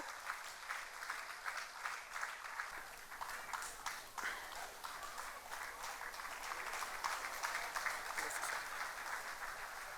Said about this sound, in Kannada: ಜೋರಾದ ಚಪ್ಪಾಳೆಯೊಂದಿಗೆ ಅವರನ್ನು ವೇದಿಕೆಗೆ ಸ್ವಾಗತಿಸೋಣ